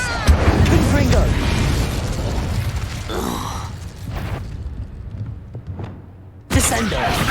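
A Confringo fire spell bursts in Hogwarts Legacy, a loud booming blast with a rumbling tail, followed a few seconds later by a second sharp impact.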